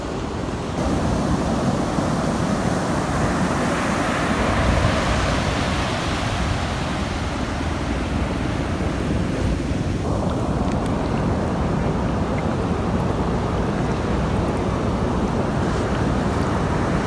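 Ocean waves wash continuously against the shore, a loud, broad rushing surf with wind buffeting the microphone and a slight shift in tone partway through, no voices.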